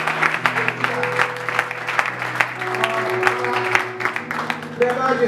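A church congregation at a youth evangelisation conference claps steadily in applause, with voices and some singing or calls mixed into the sustained clapping.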